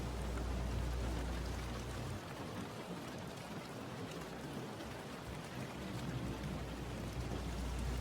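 Steady rainfall pours down in a continuous dense hiss of drops on surfaces, loud and unbroken throughout with no voices.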